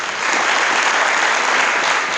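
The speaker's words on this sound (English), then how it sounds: "could you stand for a round of applause, please?" A school assembly audience gives a round of applause for teachers, custodians, kitchen workers and administrators, a loud, dense and steady wash of clapping filling the room without a break.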